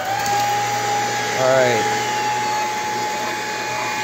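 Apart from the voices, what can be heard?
vacuum cleaner running with brush roll on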